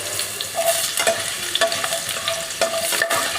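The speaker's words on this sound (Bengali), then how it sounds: "আলুগুলো ভালো করে ভেজে নেব, ডুমো ডুমো করে আলুগুলো কেটে নিয়েছি, সেগুলো ভালো করে ভাজবো লাল লাল করে।" Diced potatoes frying in white oil for a Bengali dish, a steady close sizzle with repeated scraping stir strokes at a regular rhythm, no talk.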